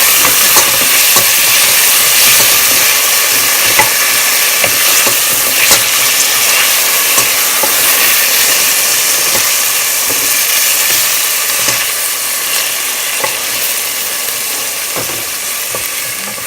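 Frozen peppers fry in a pan for vegetable fried rice, a loud, steady, close sizzle with a hissing wash and occasional stirring clicks and scrapes throughout, with no voices.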